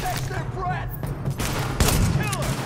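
A burst of gunfire rattles out in the shooter video game The Division, dense rapid shots with booming impacts layered over game voices.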